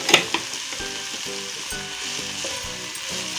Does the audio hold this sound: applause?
no